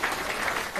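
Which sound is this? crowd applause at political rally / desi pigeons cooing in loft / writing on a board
crowd applause at political rally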